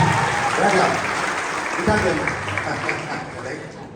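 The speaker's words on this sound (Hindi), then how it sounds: "जोरदार ताली हो जाए इनके गाने के लिए।" An audience at an engineering college motivational talk claps loudly, the applause strongest early on and easing toward the end, with some crowd voices mixed in.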